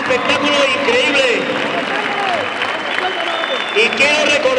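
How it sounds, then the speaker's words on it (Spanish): Audience applause after a youth combat sports bout, with a broad, steady wash of clapping and crowd noise that lasts the whole stretch, while a voice talks over it. "merecen un aplauso tremendo"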